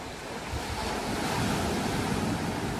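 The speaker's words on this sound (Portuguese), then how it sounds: "Deixa eu parar aqui pra mostrar a praia." Waves break on a beach in Ubatuba, Brazil, a continuous rushing surf heard from a distance with wind buffeting the microphone throughout.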